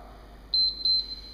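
Three short, high electronic beeps in quick succession over quiet room tone, clear and close.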